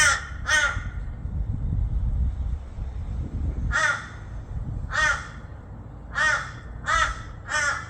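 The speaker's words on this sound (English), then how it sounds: "It's good the birds are there." Crows caw outdoors in a series of harsh, repeated calls, often in pairs, spread across the clip over a low background rumble.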